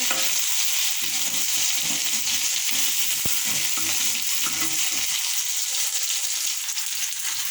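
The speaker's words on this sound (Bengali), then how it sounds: "এখানে আলুটাকে ভেজে নেব" Potatoes fry in a pan, set to be cooked with eggplant and egg. A loud, even hiss of oil runs throughout, with a quick utensil tick partway through and no talking.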